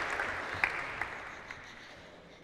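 Applause from an audience at a freshers' welcome event in Segovia fades out after a speaker's introduction, with a few scattered claps over a dwindling wash of clapping, moderately loud at first and tapering away.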